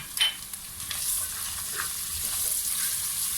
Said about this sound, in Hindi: ये भी थोड़ा सा भून के 30 सेकंड के लिए इसको भूनेंगे